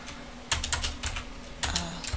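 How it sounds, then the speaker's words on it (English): Keys clatter on a computer keyboard as a terminal command is typed to change directories while setting up an Angular development environment, two quick bursts of close, crisp clicks separated by brief pauses. "I type cd two dots two times, and then my folder app"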